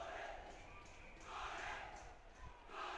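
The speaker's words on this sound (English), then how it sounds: "And the small St Andrews crowd is making a lot of noise" A small crowd of spectators at a St Andrew's College school rugby match cheers and shouts in a distant, hazy roar that swells in waves under a commentator's voice.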